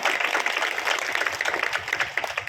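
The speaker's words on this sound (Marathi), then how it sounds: "साऊंड सिस्टीम साठी एकदा सर्वांनी जोरदार टाळ्या वाजवा" A crowd at a children's devotional kirtan event applauds loudly for the sound system, a dense, steady clatter of clapping hands throughout.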